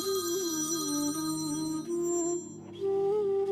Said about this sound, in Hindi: ये देख, वकील साहब का फोन भी आ गया।